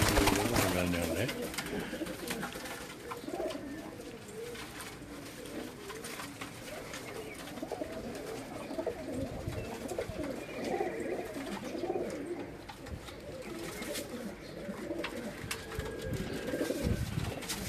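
White pigeons coo softly and steadily on a rooftop in Gujrat, a continuous low murmur of overlapping calls over faint background noise, heard at a distance.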